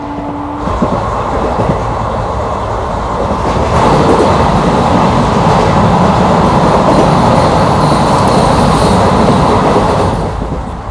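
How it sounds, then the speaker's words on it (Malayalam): Steady, loud rumble of the Mangaluru–Coimbatore Intercity superfast express running through the short Kalanad tunnel in Kerala, with echoing roar and faint rhythmic wheel clatter. "ട്രെയിൻ ഇപ്പോൾ ഒരു ടണലിലേക്ക് എത്തും,"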